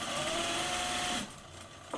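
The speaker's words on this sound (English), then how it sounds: "And then we're going to stitch along the ribbon," Sewing machine stitching along a ribbon on a fabric face mask, a loud continuous whirring run close by that stops abruptly partway through, leaving quiet room tone.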